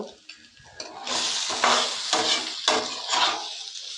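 A spoon scrapes and stirs fried egg into vegetables in a sizzling pan, with several rhythmic strokes, close and fairly loud, no voices.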